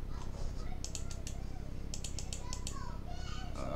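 Someone types a fighter's name on a computer keyboard, producing quick clusters of light, close key clicks with brief pauses between bursts, over a low background murmur.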